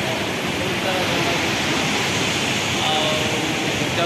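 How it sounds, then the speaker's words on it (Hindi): A large waterfall pours with a steady, unbroken rushing roar that stays loud and even throughout. "बहुत सारा झरणा"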